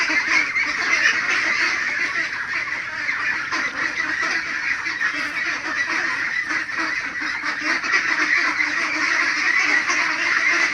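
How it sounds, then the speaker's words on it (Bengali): A flock of about a hundred ducklings, roughly forty days old, gives a dense, unbroken chorus of quacking and honking, close and steady throughout, with no talk. "100 পিস হাঁস"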